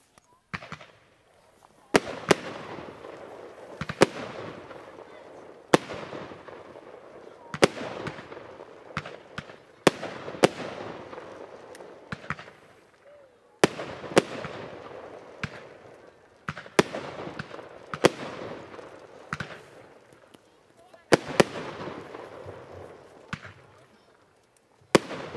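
Blackboxx Nymphis fireworks, two fired at once, boom out as a long series of sharp, loud bursts spaced a second or two apart, each trailing a crackling, fizzing tail, with quieter gaps between the louder cracks.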